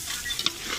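Curry being stirred in a cooking pan, a short close burst of scraping and sizzling with a couple of sharper clinks near the middle.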